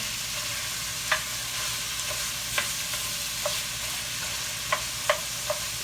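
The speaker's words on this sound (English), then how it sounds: "I'm gonna get this browned off in here. Like I say, I use half ground meat," Ground meat and sausage, half and half, browning in a pan for an old-school casserole: a steady close sizzle with occasional light scrape-and-clack stirring strokes, no voices.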